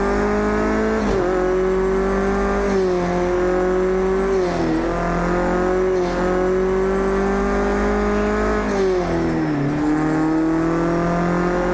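Race car engine in Project Cars 2 holds a loud, steady high-pitched drone, its pitch rising and dipping through several gear changes and throttle lifts, with faint tyre noise and no talk.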